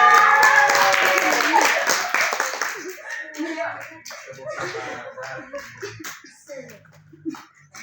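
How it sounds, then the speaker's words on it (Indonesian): Classroom students clap together during a fifth-grade micro-teaching lesson, a loud burst of overlapping claps at the start that fades out while children chatter and talk over it. "Beri tepuk tangan dulu."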